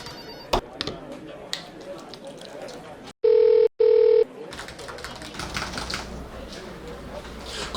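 Telephone keypad tones as a long phone number is dialed, two clear beeps in quick succession after scattered clicks and rustling, followed by more background clatter and faint voices.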